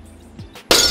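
Glass shatters loudly and suddenly near the end, a bright crash that rings out after a quiet stretch with a few faint rustles before it.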